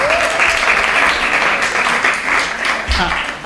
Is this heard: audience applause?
yes